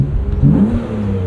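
A 1999 BMW Z3 M Roadster with its S52 engine and aftermarket exhaust revs briefly, a loud close engine note that climbs and settles again.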